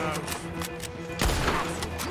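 Gunfire during a shootout in the video game Red Dead Redemption 2: a quick series of sharp shots with a heavier blast past the midpoint, over a low background hum.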